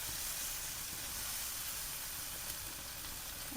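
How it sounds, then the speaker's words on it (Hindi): Food sautéing in a pan while avocado toast is being made, browning until golden, gives a steady, dense sizzle and hiss that holds evenly throughout, with no talking. "तो यही पैन में पैरेलली इसको सॉटे कर लूँगी"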